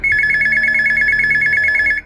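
A telephone ringing as a sound effect, a loud, rapid electronic trill repeating without a break for about two seconds, close and alone, before it stops abruptly.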